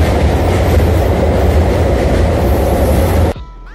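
A passenger train from Naihati to Bandel rumbling loudly up close with steady wheel noise and clatter, then dropping away abruptly to a quieter hum near the end.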